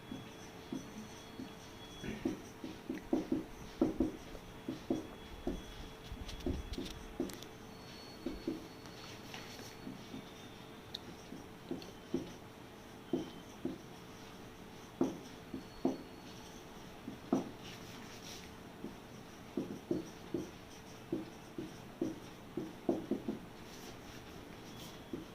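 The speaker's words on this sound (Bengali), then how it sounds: "আমি লিখে দিচ্ছি" Chalk taps and scratches across a board during a physics lesson, sparse quiet clusters of short strokes spread over a faint room background.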